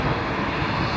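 Qatar Airways Boeing Dreamliner jet taking off at Lisbon airport, a brief, dense roar of engine noise spread broadly and held at an even level.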